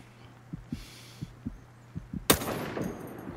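An assault rifle fires once, loudly and sharply, in the tactical shooter Ghost Recon Breakpoint. Soft, regular low thumps come before it, and a decaying echo follows.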